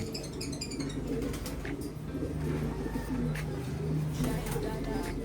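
Pigeons coo steadily in soft, low, repeating calls, with a few higher chirps and rustling over a continuous background hum.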